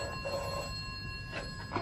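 A telephone rings in a radio drama, a steady electronic trill that pauses and then starts again, close and clear against a quiet room with no talking.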